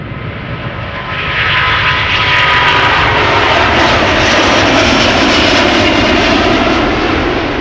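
Engines of a two-year-old Airbus A330neo at Schiphol Airport roar loud and close, a broad steady rumble that swells after the first second and holds without any talk.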